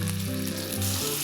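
Batter-dusted green beans fry in oil over high heat, producing a loud, continuous crackling sizzle heard up close and alone.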